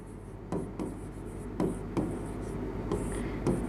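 Marker or chalk strokes on a board during a Hindi-language English grammar lesson: short scratchy bursts repeat at an uneven handwriting rhythm. The sound is close and clear over a low background hum.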